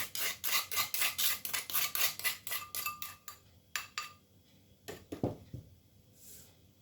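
A whisk or utensil beating eggs with sugar in a bowl, quick rhythmic scraping strokes that slow and thin out, followed by a few clinks and knocks against the bowl.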